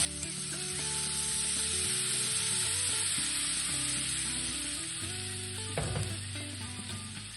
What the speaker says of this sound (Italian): Sfumato il vino, aggiungo del brodo vegetale, un po' alla volta.